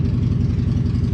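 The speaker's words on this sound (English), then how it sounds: "sorry about the motorcycle noise" A motorcycle engine rumbles steadily with a throbbing low pulse, loud and continuous, with no voices.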